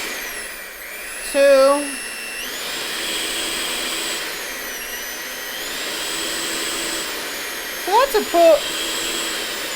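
An electric hand mixer runs at max turbo speed with a steady high whine that shifts in pitch as the speed changes. A nearby voice speaks briefly twice over the motor.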